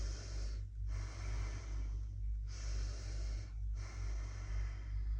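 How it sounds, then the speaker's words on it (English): Slow connected breathing through the nose, close and soft, with long airy inhales and exhales flowing into each other and brief pauses between cycles, over a low steady hum. "simply going back to doing the constant connected breath through your nose"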